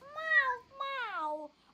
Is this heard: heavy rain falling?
no